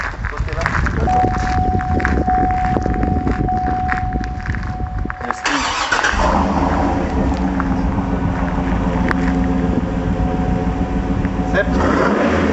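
A Cadillac Escalade with a 6.2 V8 rated at 409 hp rumbles loudly through its exhaust, rising in revs and holding a strong, throaty drone, while people talk nearby.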